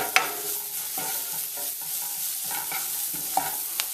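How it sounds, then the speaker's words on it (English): Pot of mashed yam with fresh black pepper and bonnet pepper given a quick stir, a soft continuous sizzle under scraping spoon strokes, with a few brighter knocks against the pot, close and steady. "And then give it a quick stir"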